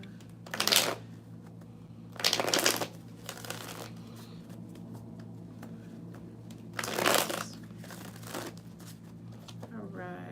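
A tarot card deck is shuffled in three quick riffling bursts, crisp papery flutters near the microphone separated by pauses, over a low steady hum.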